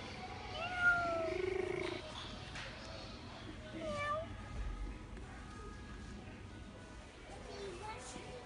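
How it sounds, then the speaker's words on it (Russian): A live cat in a shop purrs softly and gives a few short meows, close by and fairly quiet, under light background chatter and store noise. "Мурлыкает?"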